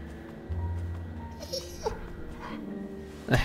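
Rosie, a large trained dog in The Walking Dead video game, gives a few soft whimpers and yips among low game ambience, moderately close, without speech.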